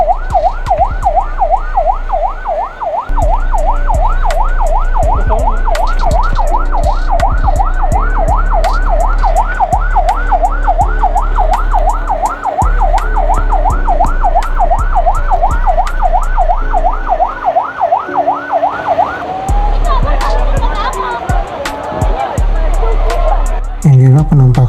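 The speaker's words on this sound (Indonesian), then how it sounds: "nanti akan ada bunyi sirene, berarti artinya ombak akan dimulai." A loud wave pool siren wails in fast, regular up-and-down sweeps for most of the clip, then stops as splashing and crowd noise take over at a water park.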